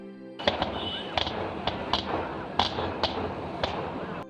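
Distant daytime fireworks at Kavassery Pooram, Kerala: a series of sharp cracks and booms at irregular intervals over a steady background murmur.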